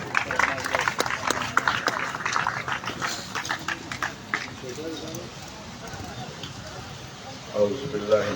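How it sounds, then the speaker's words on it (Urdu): Audience applause welcomes Vice Chancellor Professor Dr. Muhammad Jahanzeb Khan at a Prime Minister's Youth Sports Programme event, a dense burst of clapping that fades to quieter scattered claps. "آپ کی بھرپور تالیوں میں"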